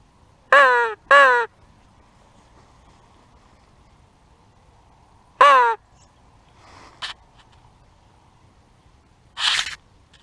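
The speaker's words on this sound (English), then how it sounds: "there's crows around" Crows caw nearby in short harsh bursts, two quick calls, a pause, then another caw, with a few fainter calls and scrapes in a quiet setting, heard from a layout blind during a crow hunt.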